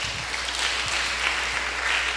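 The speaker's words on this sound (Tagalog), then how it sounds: "Palakpak." Audience clapping fills the room in a steady, moderately loud wash, with a few heavier low thumps scattered through it.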